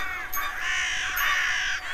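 Cartoon crows caw loudly and harshly in overlapping calls, a dense flock answering one another with no speech over them.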